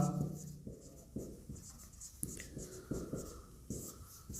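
Pen or chalk writing out a maths solution, a series of short scratchy strokes in quick rhythmic bursts, close and fairly faint, with no talking over them.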